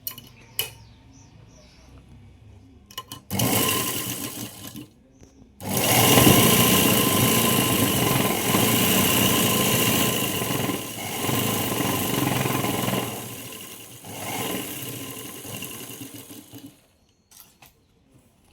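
A sewing machine stitches bag handle fabric together with its lining, running in a few sustained bursts of steady mechanical whirring separated by short pauses, close and fairly loud.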